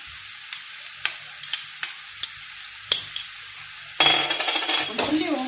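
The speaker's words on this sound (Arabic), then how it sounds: "كنحركوه مره هكا باش ما يلصقش ويتحرك مزيان" A spoon scrapes and taps lightly in a pan of milk and grated bread being stirred, then a louder sizzling bubbling rises as the mixture cooks near and close.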